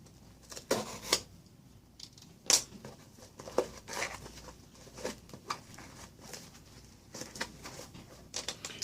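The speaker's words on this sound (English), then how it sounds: "let's get with the cutting" Scissors snip open the packaging of a rare 1976 Six Million Dollar Man child's brush collectible, giving a series of short, crisp cuts and crinkles at close range with quiet pauses between them.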